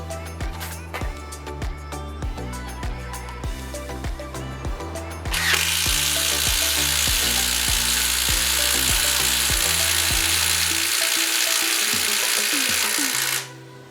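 A subcompact drill from a Makita versus Metabo HPT comparison drives a 3/4 inch spade bit into non-pressure-treated 4x4 wood, first with rapid ratcheting clicks, then a loud steady whirring bore that cuts off abruptly.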